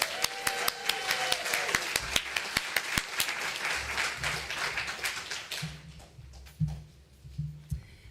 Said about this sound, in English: I think Tracy and Mimi need a really big round of applause.